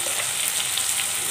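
Salt, cumin powder, coriander powder and turmeric sizzle steadily in hot oil while frying for a hilsa curry with black cumin, a dense, even crackle held close and continuous with no talk.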